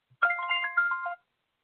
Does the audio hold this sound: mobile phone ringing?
yes